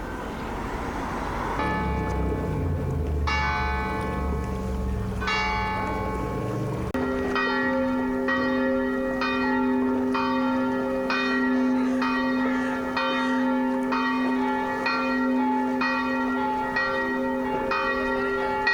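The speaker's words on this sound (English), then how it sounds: "the bells are having a dance off" Church bells in Croatia ring loudly and close, overlapping peals building from a single bell into several bells clanging in a steady, layered rhythm with no talk.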